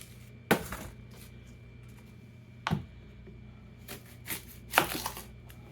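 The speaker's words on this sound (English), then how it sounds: "we're going to cut the ends off of the onion" A knife slicing the ends off an onion on a cutting board makes a few sharp, separate chops spaced a couple of seconds apart, close and fairly quiet against a low background hum.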